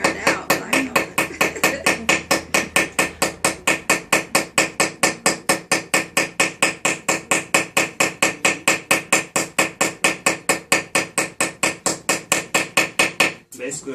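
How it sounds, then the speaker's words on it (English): Rapid, evenly spaced metallic taps of a small hammer working around a rivet head to mushroom it in jewelry making, dozens of crisp close strikes in steady rhythm that stop abruptly near the end. "Basically what I'm doing is I'm working around in a circle and it slowly mushrooms the head out and it gives the rivet actually a hammered texture"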